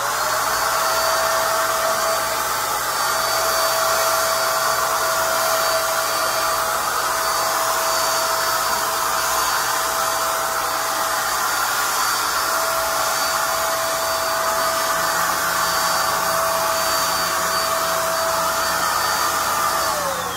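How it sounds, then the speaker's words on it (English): A paint sprayer hisses steadily and loudly for about twenty seconds as it lays a final coat of paint on a wooden dresser, an even continuous whoosh with a faint whine and no talking. "Spray our final coat of paint on this dresser."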